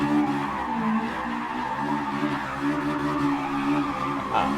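Tires skid and squeal as a Honda S2000 spins celebratory donuts in the racing game Gran Turismo 7 after laps at Brands Hatch, a steady engine drone and tire scrub running continuously and loud throughout.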